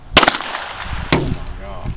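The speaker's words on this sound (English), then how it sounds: "Let me shoot it" Two gunshots aimed at a glass bottle that would not break, a close, sharp double crack followed about a second later by another single shot, with faint voices in between.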